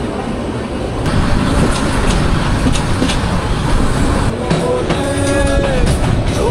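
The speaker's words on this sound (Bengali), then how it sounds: "হুইসেল দিয়ে দিল এবং ট্রেন ছেড়ে দিল।" The Upokul Express, a Dhaka-to-Noakhali passenger train, pulls away from a station with a steady, close rumble of wheels and carriages that runs unbroken throughout, with faint rattling in the middle and no voices.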